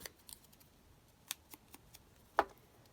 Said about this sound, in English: cut that end off